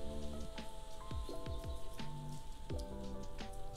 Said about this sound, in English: Now it started to rain, so that's what you can hear in the background.